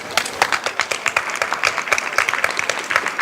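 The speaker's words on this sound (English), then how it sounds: "One again, an applause for the panel." An audience at a panel on the ethics of making at MIT applauds the panel, a steady spread of many handclaps at moderate level continuing throughout with little else heard.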